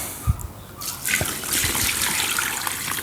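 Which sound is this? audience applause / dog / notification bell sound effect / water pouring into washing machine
water pouring into washing machine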